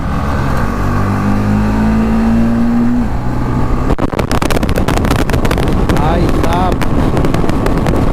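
A motorcycle ridden at over 130 km/h on a highway ride, with loud continuous engine roar and heavy buffeting wind noise against the microphone and helmet throughout, a steady engine tone rising then giving way to harsher wind rush.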